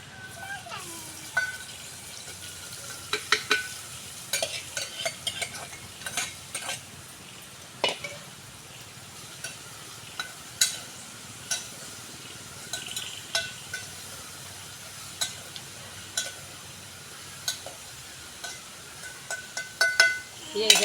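Capsicum pieces stirred and fried in a pan, with repeated sharp spoon scrapes and metallic clinks over a soft, steady sizzle that thicken into a quicker clatter near the end.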